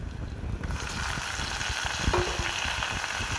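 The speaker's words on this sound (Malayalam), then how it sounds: "അപ്പോൾ നമുക്കിതിലേക്ക് ഇനി തക്കാളി ചേർത്ത് കൊടുക്കാം." Tomatoes sizzling and sautéing in a pan with onion and ginger for a Kerala fish curry, a steady close frying hiss with a few faint stirring clicks, no voices.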